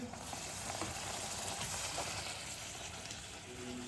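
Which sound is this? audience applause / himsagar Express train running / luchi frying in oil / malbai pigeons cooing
luchi frying in oil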